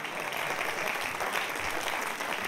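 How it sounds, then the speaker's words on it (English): An audience in a live show venue at Epic Studios, Norwich, applauds steadily, a dense continuous wash of clapping that fills the whole short stretch. "Give Caroline a round of applause."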